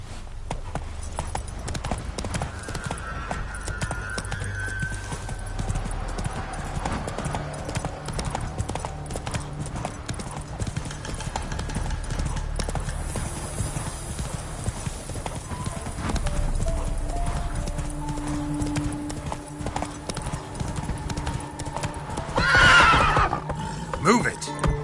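A horse gallops across The Witcher 3 video game world with steady rhythmic hoofbeats and an occasional whinny, while game sounds and a voice talking run alongside.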